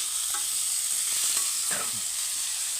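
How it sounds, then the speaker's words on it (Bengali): Onion frying in a pan, a continuous dense sizzle with faint stirring scrapes underneath, close and steady throughout. "আমরা প্রথম পেঁয়াজটাকে ভেজে নিই"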